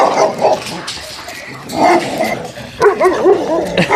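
Several dogs bark and yip close by along a rural Irish countryside walk, in short irregular bursts with some whimpering between them.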